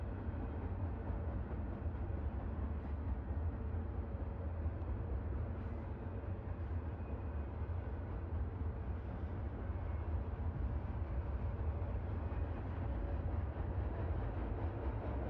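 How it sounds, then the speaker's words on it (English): Train noises coming from a radio, a dull continuous rumble with faint rhythmic rattling, muffled and low, steady for the whole stretch without talk. "Train noises means it's happy."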